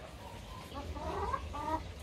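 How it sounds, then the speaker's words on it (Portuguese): Chickens in a backyard coop cluck and murmur softly at moderate distance, a few short burbling calls rising over a quiet farmyard background with no clear talk. "Aqui é minhas galinhas aí, ó."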